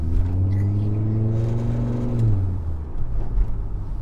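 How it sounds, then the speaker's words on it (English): A 1996 turbo Volvo wagon with an exhaust leak just after the catalytic converter accelerates, its loud droning engine note rising steadily then dropping off, close and alone with no talk. "Looks like the exhaust is leaking right after the cat, and it's pretty loud."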